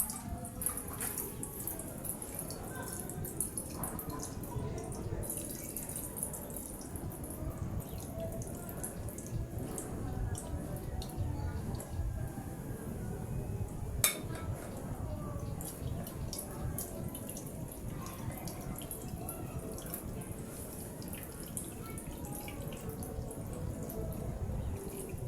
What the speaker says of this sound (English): So then I can now begin to add my water.